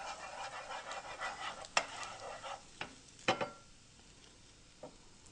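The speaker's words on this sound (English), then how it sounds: "Hear it sizzling?" Pressed garlic sizzling in a frying pan, a faint steady crackle with a few scraping knocks of a utensil against the pan, quiet and close.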